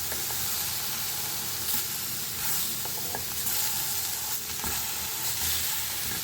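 Vegetables for chutney sizzle steadily in a little oil in a pan, a continuous close frying hiss with occasional stirring scrapes, no voices.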